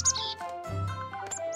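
A cartoon character imitates a blue jay with a voice, giving quick high chirps and tweets mixed with short voiced babble, close and clear.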